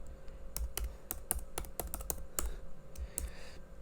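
Code is typed on a computer keyboard in quick, irregular bursts of crisp key clicks, close-up and quiet, alone with no talking.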